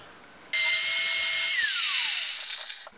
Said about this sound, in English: I'm going to see how quickly a 80 grit flap disc will get this down.